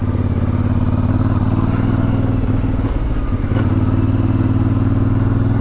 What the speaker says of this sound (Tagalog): May motor oh.